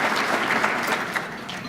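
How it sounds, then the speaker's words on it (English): Round of applause for event sponsors at a chamber of commerce annual meeting, a dense, loud wash of clapping from a large audience filling the whole moment. "Let's give our event sponsors a round of applause"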